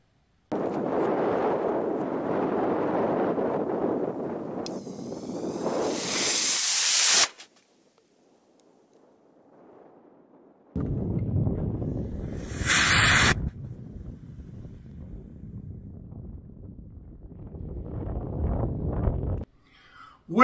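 One-cell PVC sugar rocket motor burning on a static test stand, a loud roaring hiss that builds and ends abruptly, then after a quiet gap a second sustained rushing roar with a sharp hissing burst, no talk.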